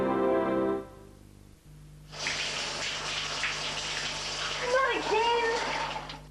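Strong shower spray in a 1992 Australian TV commercial for a Davey XP home water pressure system: after a brief voiced lead-in and a short pause, a loud, steady hissing rush of water fills the rest of the clip.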